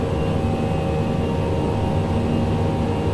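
Steady, loud aircraft engine drone in the FSX flight simulator as the throttle advances to full, a continuous roaring whine that holds evenly throughout with no speech.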